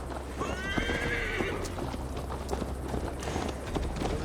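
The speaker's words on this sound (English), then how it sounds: "Mount up, Eivor. It's a long ride to Tamworth." Horses in the Assassin's Creed Valhalla video game whinny and clip-clop at a steady trot, with a loud neigh early on and a continuous low game ambience beneath the hooves.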